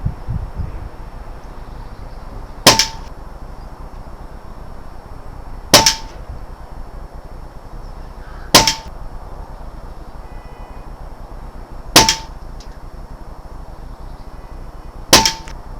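Five sharp, evenly spaced cracks from a Daystate Air Wolf air rifle firing pellets at a target, each a crisp clean snap with a faint ringing tail, roughly three seconds apart over low background hiss.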